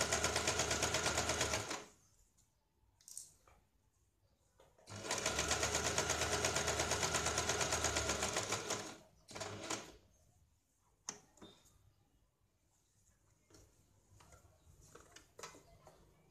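A sewing machine runs in two loud bursts while stitching the edge of a square-neck blouse, each run a steady dense whir of a few seconds, followed by softer handling clicks and fabric shuffling.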